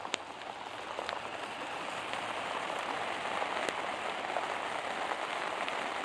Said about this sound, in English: It's starting to rain even harder now.